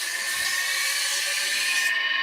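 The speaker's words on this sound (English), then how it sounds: "turn the lathe back on," A wood lathe spins while a turned ladle is sanded, a steady high-pitched hiss and whir with no talking, holding constant before tapering at the end.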